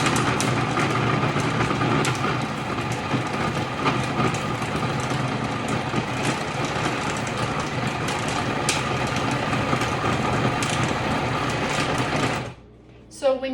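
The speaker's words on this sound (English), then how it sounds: "So I'm going to blend this up," A blender running steadily on a banana and mint ice cream mixture, a loud continuous whirring motor with grinding texture for about twelve seconds, then cutting off abruptly near the end.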